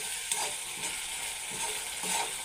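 Spices stir-fried in a pan for an egg dish in taro leaves give a continuous moderate sizzle with rhythmic stirring scrapes, close and alone.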